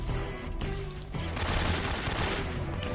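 Enemy soldier gunfire in Metal Gear Solid 3 comes as bursts of rapid machine-gun shots, dense and loud, cutting in and out over game music.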